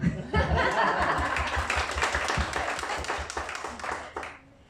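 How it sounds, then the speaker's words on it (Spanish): An audience at a church sermon gives a short burst of applause, dense clapping at first that thins out toward the end, mixed with some laughter. "A él le vamos a dar un aplauso"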